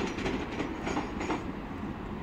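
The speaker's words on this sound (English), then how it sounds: "Clunking over the points there" A Great Western Railway passenger train bound for Weston-super-Mare rolls over railway points near Bristol Parkway, giving a steady rumbling clatter of wheels and wagons at moderate distance with no voices.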